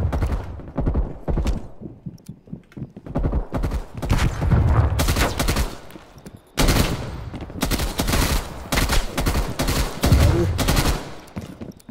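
Burst rifle fire in Call of Duty Cold War Prop Hunt, with rapid repeated bursts of loud, close gunshots in clustered volleys and brief gaps between them.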